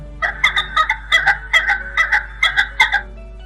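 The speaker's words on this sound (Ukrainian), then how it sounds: "А ось фазан." A pheasant calls in a quick run of sharp, harsh bursts grouped in uneven clusters, close and clear against a quiet background with a steady low hum.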